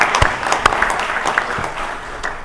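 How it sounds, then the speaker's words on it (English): Applause for the mayor of Winter Park in an Orlando city council chamber, a moderate round of clapping with a few crisp claps that gradually thins and softens. "We'd like to applaud the mayor of Winter Park."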